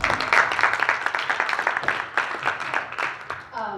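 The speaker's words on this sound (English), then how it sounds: "Let's give our guests a round of applause." Audience applause for guests at a millennial voter activism town hall, a steady patter of many hands clapping at moderate loudness that thins toward the end.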